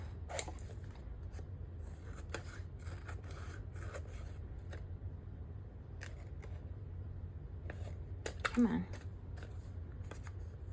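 Scissors snip paper for a handmade shaker card in a series of quiet, irregular cuts up close, with a brief spoken remark in between.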